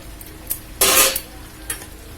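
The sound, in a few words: frying meat with fried potatoes in a pan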